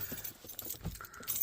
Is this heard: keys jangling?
yes